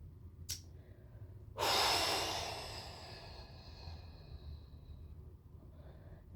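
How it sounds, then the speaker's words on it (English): During a hip exercise routine, a person takes a sharp breath, then lets out a long audible exhale that fades slowly, close and fairly quiet over a soft background. "And breathing."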